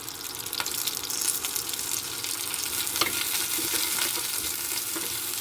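Onion, garlic and ginger fry in a pan with a loud, steady sizzle close by, and light stirring clicks sound now and then, no voices.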